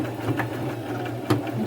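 A sewing machine stitching over the folded fringe edge of a thrifted maxi dress, a close, steady mechanical hum with rhythmic needle thumps.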